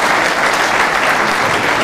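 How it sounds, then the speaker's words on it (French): An audience at a lecture claps steadily, a dense, even burst of applause that fills the moment at full volume without pause. "Je sais pas qui est-ce que vous applaudissez, mais c'est un peu inquiétant"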